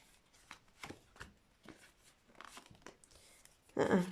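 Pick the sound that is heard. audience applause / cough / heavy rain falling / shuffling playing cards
shuffling playing cards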